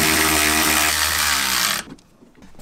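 An impact or power tool with an 18 mm socket tightens a shock bolt on a Jeep JL Wrangler during a 2-inch lift install: a loud, close, steady whirring buzz that cuts off sharply, followed by quiet.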